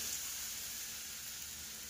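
Potatoes and peas frying in a pan, a steady, faint sizzling hiss with no talk.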